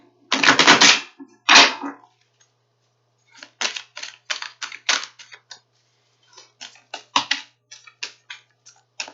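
Tarot cards being shuffled and handled, crisp riffling bursts at first, then a run of short, sharp card slaps and clicks in irregular rhythm, close and clear with no talking.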